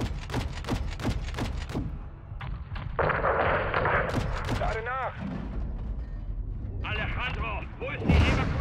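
Rapid gunshots crack at the start, followed by ongoing combat noise and explosions from Call of Duty: Modern Warfare II's campaign beneath talking voices.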